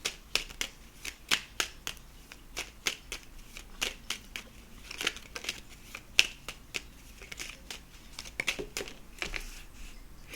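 Tarot cards being shuffled close by, a quick run of crisp riffling snaps and taps in an uneven rhythm, alone with no talking.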